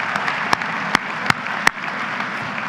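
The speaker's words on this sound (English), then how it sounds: "let's give that a round of applause." A college matriculation ceremony audience applauds in 2018 at Adrian College, with steady dense clapping and a few sharp, louder individual claps standing out.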